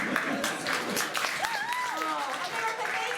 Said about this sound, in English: Can we all give Iowa a big round of applause?